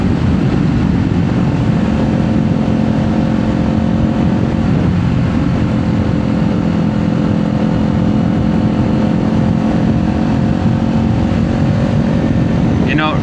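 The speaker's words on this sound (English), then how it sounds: "Great balance on this motorcycle." Kawasaki Z500 motorcycle riding, with a steady, loud engine drone and wind rush running continuously throughout, holding an even tone without big revs.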